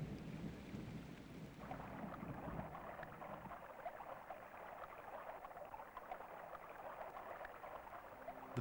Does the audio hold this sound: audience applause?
no